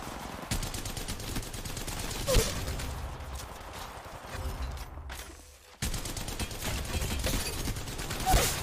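Bursts of rapid automatic gunfire from Apex Legends Mobile, loud and close, with a sharp single crack, a brief quiet gap, then the firing resumes as continuous volleys.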